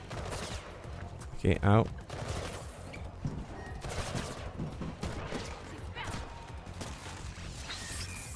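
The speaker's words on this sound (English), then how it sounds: "Who's shooting me now?" Gunfire in the video game Mirror's Edge Catalyst: scattered shots and impacts ring out amid game ambience, with a sharp whooshing burst, while someone speaks briefly in between.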